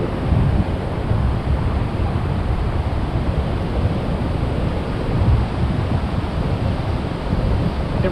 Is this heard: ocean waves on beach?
yes